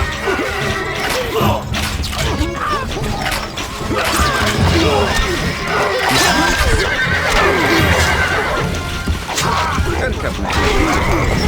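A horse in the video game Stronghold: Crusader gallops and neighs repeatedly amid loud, busy battle clatter and crashes, with game voices mixed in throughout.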